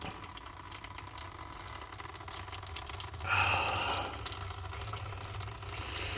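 Alcohol fuel draining from the loosened engine drain plug of an 850 hp Super Pro Chevrolet Vega race car, a steady liquid pour that starts midway and runs on over a low hum in a garage.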